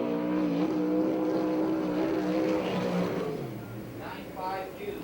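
A USAC/CRA sprint car with an Ed Pink built Mopar engine screaming around the Perris track on a qualifying lap, a loud high-revving roar that pitches up and down and fades slightly toward the end, with a commentator talking over it.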